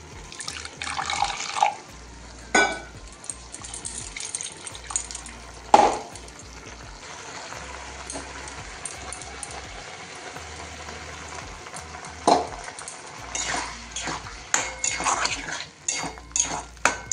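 Running tap water splashing into a sink while dishes and cutlery are rinsed by hand, with scattered clinks and clatters and a few louder knocks of pots over the flow.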